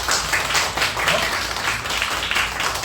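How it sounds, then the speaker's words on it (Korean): A church congregation applauds in thanks during a Sunday worship service, a steady wash of many hands clapping for a few seconds, moderately loud with faint voices beneath. "박수로 우리 한번 감사드립니다"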